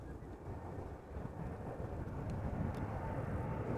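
KLM Boeing 787 Dreamliner taking off at Amsterdam Schiphol, a distant broadband jet roar that builds steadily, with wind noise on the microphone.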